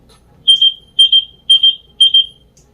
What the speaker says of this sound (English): it does have a little high-pitched beeping sound